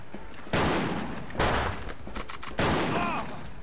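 Gunfire in a multiplayer shooter video game comes in three loud, dense bursts of rapid shots, each lasting about a second with brief gaps between.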